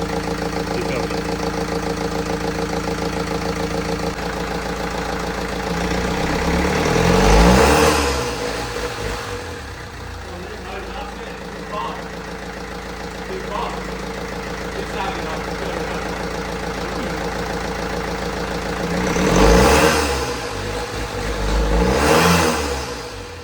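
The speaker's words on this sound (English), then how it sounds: "That's just diesel shitty noise." A diesel car engine idles with a steady clattering drone and is revved in three loud surges. A voice speaks briefly over the idle.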